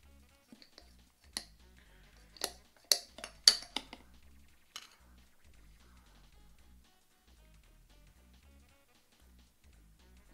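Spoon clinking against a glass while a lemon juice cocktail is stirred, a cluster of sharp metallic chinks in quick succession followed by a few fainter taps, close and clear over a quiet background.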